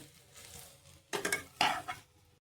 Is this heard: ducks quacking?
no